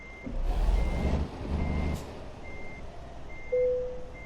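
A truck reversing in Euro Truck Simulator 2 gives off evenly spaced, high electronic beeps over a low engine drone, followed by a short, steadier tone near the end.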